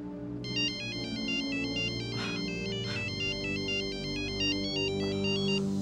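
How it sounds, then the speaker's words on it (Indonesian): A handphone ringtone plays continuously, a repeating bright electronic melody with steady loudness, close by and heard alone without speech. "gara-gara handphone ini berbunyi"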